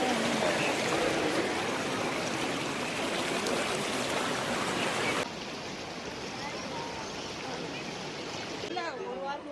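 A monsoon-swollen stream at Talakaveri in Coorg rushes over slippery rocks near sandbags, a loud, dense, continuous hiss of flowing water. Partway through it drops to a softer rush, and faint voices come through near the end.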